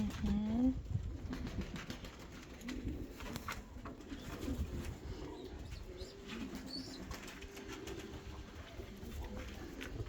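Domestic pigeons, including a solid red hen and a cock, coo softly in a loft amid steady background noise, with wing flutters and quiet voices nearby.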